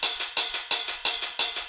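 Clean, unprocessed hi-hats from a remix beat tick in a steady repeating pattern with a sharp attack and short decay on each hit, alone and fairly quiet.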